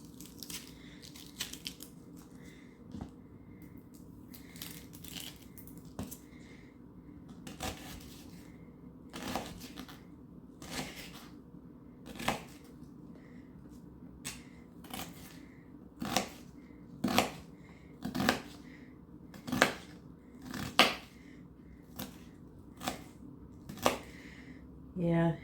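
Knife chopping and dicing an onion on a cutting board in a home kitchen, heard as a string of sharp, separate cuts that grow louder and more regular toward the end, with faint background noise.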